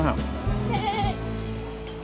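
A goat bleats briefly over a steady background murmur, the call wavering and mid-loud amid other farmyard noise of a pig and goat slaughter for a baptism feast.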